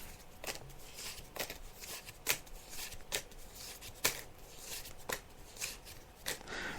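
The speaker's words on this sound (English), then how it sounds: "I'm just shuffling the cards now, Kathleen." Tarot cards being shuffled, a steady papery riffle broken by sharper snapping clicks every second or so, close and moderately loud with no talk.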